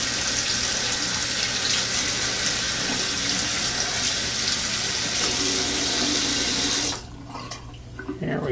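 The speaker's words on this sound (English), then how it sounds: "Just give it a little bit of a rinse." Tap water pours steadily and loudly over a Motorola Defy Pro phone for about seven seconds, then cuts off, leaving a few faint drips and handling noises.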